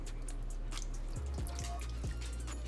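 Juice from half a big lemon goes onto a quarter cup of baking soda, giving close, quiet drips and trickling splashes in a few short bursts with no talking.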